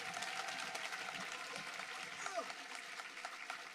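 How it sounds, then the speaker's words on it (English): Audience applause for high school graduates at a 2021 graduation ceremony: a dense, steady wash of clapping across the whole stretch, with a faint voice or murmur mixed in. "please give these graduates yet another round of applause for their hard work"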